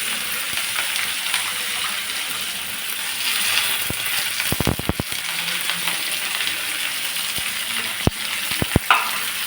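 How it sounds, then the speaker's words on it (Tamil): Chopped onion and green chilli fry in hot oil for an uppu urundai dish, a steady close sizzle with a few sharp clicks of a spoon stirring against the pan. "வெங்காயம், பச்சை மிளகா இது 2த்தையும் போடுறோம்."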